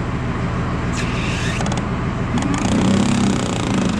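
An out-of-balance fan spinning on a corn planter hooked to a tractor, giving a steady loud mechanical whir with rattling creaks and an uneven thump that swells slightly near the end.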